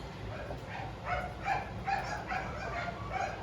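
Puppies whimpering and yipping in a steady series of short, high cries, close by, with soft background noise.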